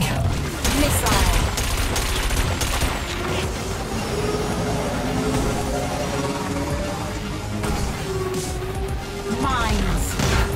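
Missile weapons fire during a Wipeout 2047 futuristic anti-gravity race, with rapid bursts and booms layered over a constant roaring engine drone and a steady soundtrack, loud and dense throughout.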